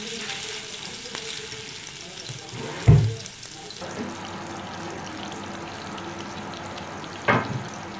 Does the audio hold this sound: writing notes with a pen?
no